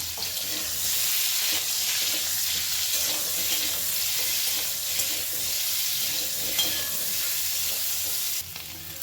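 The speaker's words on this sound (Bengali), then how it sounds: "আলুগুলোকে খুব ভালো করে একটু লাল লাল করে ভেজে নেব" Potatoes frying in a pan with a little salt for a dum aloo recipe, a steady close sizzle with occasional stirring scrapes running throughout, fading slightly at the very end.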